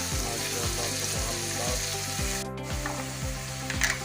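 Chopped onion with two chopped green chilies sautéing in a pan for aloo paratha filling, a steady close sizzle broken by a regular series of rhythmic scraping strokes from the spoon; no voices.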